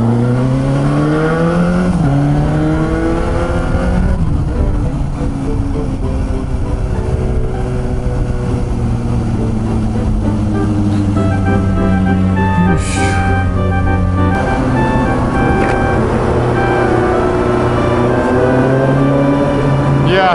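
A Suzuki GSX-S750 motorcycle engine roars loud and close inside a tunnel, its pitch climbing through repeated revs and dropping at each gear change, echoing continuously throughout.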